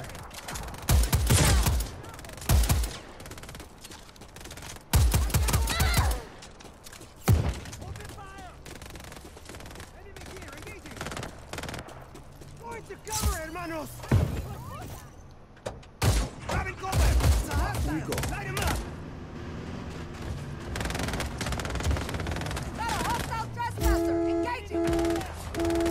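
Continuous gunfire from the Just Cause 4 video game on PS4, loud, dense bursts of shots and rapid automatic fire that rattle on with brief pauses, over a steady game background with some music tones near the end.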